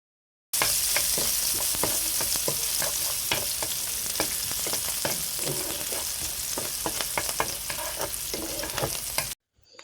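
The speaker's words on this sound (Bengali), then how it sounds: "সিমটা সুন্দর করে ভাজা নিছি।" Flat beans and onion fry in hot oil, a continuous sizzle broken by frequent scraping and clinking as a spatula stirs the pan, close and loud, with no talking.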